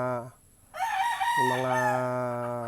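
A Boston Roundhead rooster crows once, close and clear, in a full drawn-out cock-a-doodle-doo lasting over two seconds after a short opening note.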